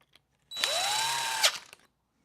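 A power drill drives a screw into an ARRMA RC car, spinning up once with a rising whine, holding steady for about a second, then a short clatter as it stops; close and clear, with no talk.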